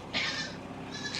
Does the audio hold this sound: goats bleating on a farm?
yes